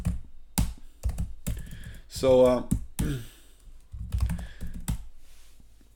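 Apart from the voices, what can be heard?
typing on a computer keyboard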